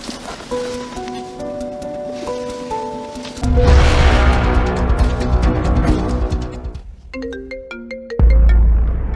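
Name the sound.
mobile phone ringtone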